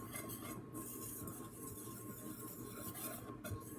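A metal whisk stirs dry biscuit ingredients (flour and table salt) in a bowl, making a steady scraping, clinking rattle that runs continuously throughout at close range.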